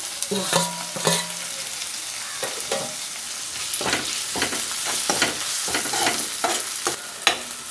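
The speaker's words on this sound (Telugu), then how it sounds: "ఇప్పుడు దీనిలో ఒక చిన్న టమాటాని కట్ చేసి ముక్కలు వేసుకుందాం." Small tomato pieces fry with ginger-garlic paste for mutton keema, a continuous close sizzle broken by repeated scraping stir strokes against the pan, with no speech.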